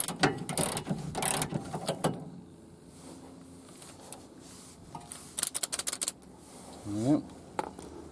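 A ratchet fitted with a 22mm socket works the nut on a VW T25 front shock absorber, giving bursts of quick clicking at the start and again near the middle, with a brief voice or squeak near the end.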